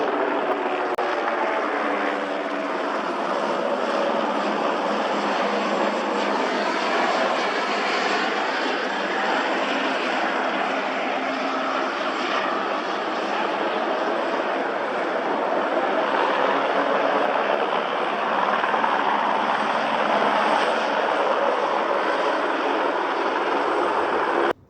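Aircraft engines roar continuously as planes come in to land at Sion Airport, a loud, steady broadband drone held for the whole stretch with no voices.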